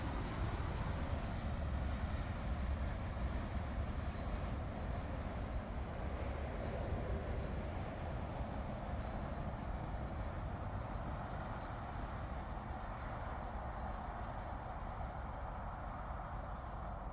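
A freight train rolls past as a steady, broad, distant rumble that stays even throughout with no distinct horn or clanks.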